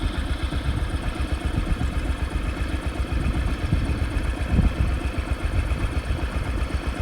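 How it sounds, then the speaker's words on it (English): An old John Deere Model A tractor engine running nearby, a steady, rough, chugging mid-pitched putter at moderate loudness, continuous throughout with no talk. "Just sounds like an old Model A. John Deere going there."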